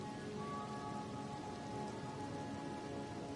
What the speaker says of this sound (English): this is the only time it rains.